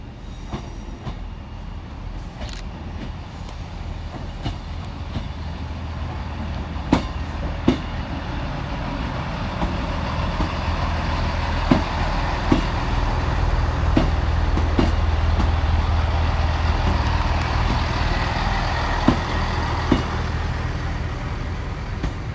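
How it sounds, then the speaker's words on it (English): A Northern Class 158 diesel train, 158816, arrives from Darlington to terminate at Saltburn station, its engine rumble building steadily as it draws near, with intermittent sharp clicks and squeaks from the wheels on the rails. "Arriving to terminate with a Northern service off of Darlington"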